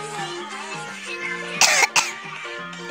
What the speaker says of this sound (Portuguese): Eita, tosse.